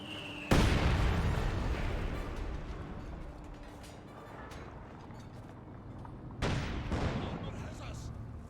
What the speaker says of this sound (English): Panzer IV or Panther fired a shot off there, revealing itself